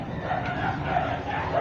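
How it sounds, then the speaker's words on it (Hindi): Several dogs barking and yipping together outdoors, a steady, moderately loud tangle of overlapping barks with no clear pauses, like a scuffle among street dogs. "सारे कुत्ते लोग कितना लड़ाई कर रहे हैं, पूरा आवाज आ रहा है।"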